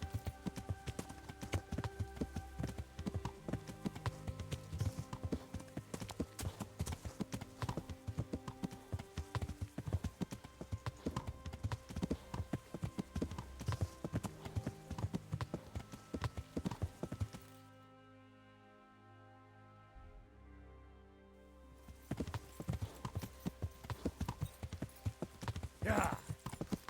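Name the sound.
horse hooves clip-clopping while riding in Kingdom Come Deliverance video game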